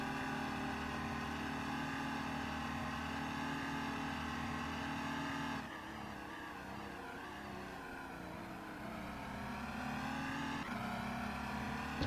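A Lamborghini Murcielago race car in a sim racing game at Road America, its engine droning in a steady high-revving harmonic whine for the whole stretch. The pitch dips briefly near the middle, then climbs again as it heads toward a corner.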